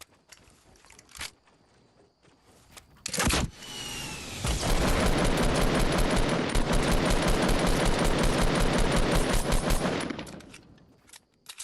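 Sustained automatic gunfire in Fortnite Battle Royale on console, a long, loud, dense stream of rapid shots lasting several seconds after a few scattered earlier cracks, then stopping abruptly.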